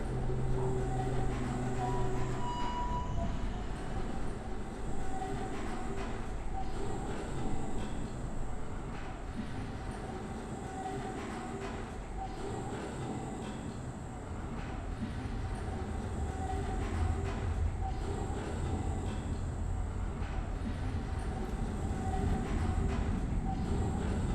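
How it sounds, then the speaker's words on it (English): Continuous rumbling of a moving tram in the video game Abiotic Factor, with a steady rolling drone and faint rattling, unbroken throughout and with no talking. "it's because the tram's moving"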